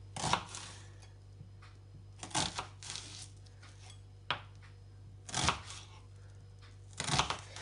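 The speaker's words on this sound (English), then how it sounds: "put them cut side down on your chopping board, and then you want to chop them" Sharp knife chops knock on a chopping board as an onion is chopped, in scattered bursts, faint and close, separated by quiet pauses over a low steady hum.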